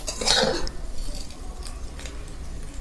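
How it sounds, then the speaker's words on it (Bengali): Food being stirred and turned while frying in a pan, a sharp clatter of a utensil against the pan at the start followed by softer scraping and faint sizzling. "আবারও একটু এইভাবে উল্টে পাল্টিয়ে নাড়াচাড়া করে ভেজে নেব।"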